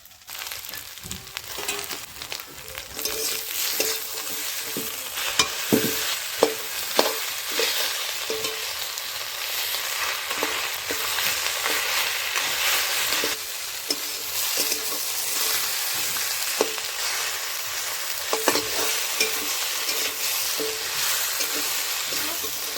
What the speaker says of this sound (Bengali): দিয়ে দিচ্ছি এখন কাতল মাছের মাথা।